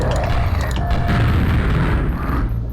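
A grenade explodes in a video game with a loud, rumbling boom that fills the whole moment, followed by sustained low roaring debris noise with no talk over it.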